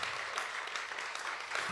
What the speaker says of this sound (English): Y'all should clap for that.